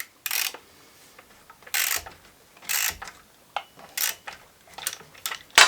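Ratcheting clicks from a wrench tightening the bar bolt on a Husqvarna 450 chainsaw come in short, loud bursts about once a second, close up with quiet pauses between, no talking.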